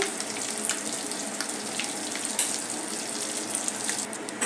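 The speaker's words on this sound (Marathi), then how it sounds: "अशा प्रकारे मी आता याला तळून घेते" Potato snacks deep frying in hot oil, a continuous soft bubbling sizzle with faint crackling pops, steady and fairly quiet throughout with no talking.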